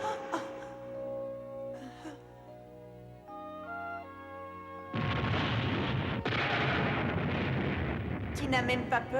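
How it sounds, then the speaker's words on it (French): A thunderstorm breaks: after a stretch of soft music, loud, continuous rumbling thunder mixed with a rain-like roar takes over and keeps going to the end. "l'orage va éclater"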